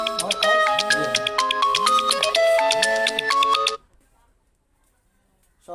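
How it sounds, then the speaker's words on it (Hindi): A phone alarm plays a loud, bright ringtone melody of repeated electronic tones during a maths class, runs for nearly four seconds, then cuts off abruptly into near silence. "फोन का अलार्म बज गया था"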